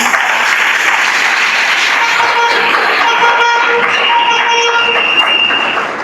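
Church congregation breaks into sustained, dense applause and cheering acclaiming Jesus, loud and continuous for several seconds, with faint tonal music or voices threading through.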